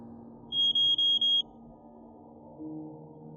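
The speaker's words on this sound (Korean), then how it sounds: "그때 삐삐가 울렸다." Four quick, high-pitched electronic beeps from a pager in an even rhythm, followed by a low background hum.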